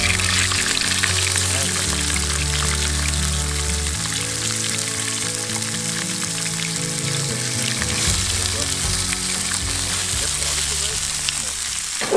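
Catfish pieces sizzle and fry steadily in a very hot pan outdoors at a fishing spot, a loud continuous crackle with occasional voices talking over it.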